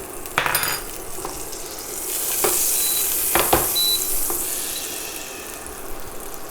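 Oil and butter sizzle in a pan on an induction burner, a close, steady crackling hiss broken by several sharp clinks and scrapes of utensils against the pan, with no talk.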